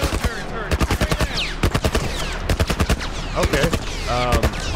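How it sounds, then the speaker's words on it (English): Rapid automatic gunfire in The Last of Us, loud bursts of closely spaced shots with a few pauses, heavy and near, with a brief spoken word over it. "What are they shooting at us with?"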